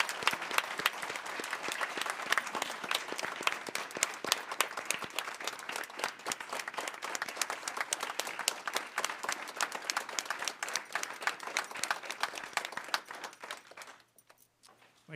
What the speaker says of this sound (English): how about a big round of applause for all of them?